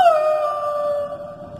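A performer at a mimicry show at a crafts bazaar in Visakhapatnam imitates a dog howling with his voice, giving one long, loud, wavering howl that slowly falls in pitch and fades a little toward the end.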